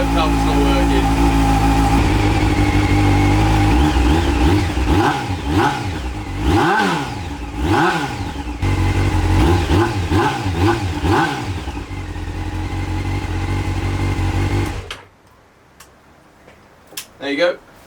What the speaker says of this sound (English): now we've heard how the bike sounds